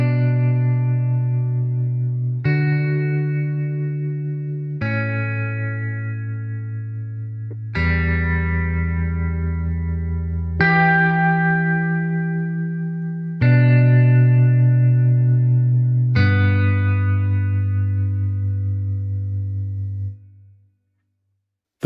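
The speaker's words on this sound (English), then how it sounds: "The two-note chords is probably one of my favourite presets in Desolate guitars." Two-note guitar chords from the E-Instruments Desolate Guitars sample library, seven sustained dyads struck one after another at steady intervals, each ringing with a distorted, chorused and reverberant tone before the last fades out.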